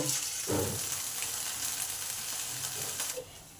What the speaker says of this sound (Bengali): এবার বাকি মাছগুলোকে ভেজে নেব